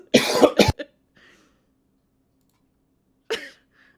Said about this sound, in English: Uh-oh, he's got a little cough.